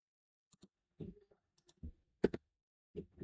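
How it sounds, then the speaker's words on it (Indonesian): A few scattered keyboard keystrokes, sparse and quiet clicks spread irregularly with gaps between them, close to the microphone and heard alone. "Di sini kita ketikkan dulu."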